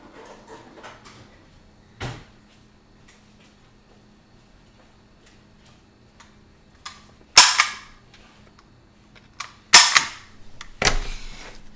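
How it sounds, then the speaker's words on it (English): A hand stapler driven through a stack of papers, heard as several sharp close clacks and crunches spaced a couple of seconds apart over a quiet room. "Okay, so you got it stapled."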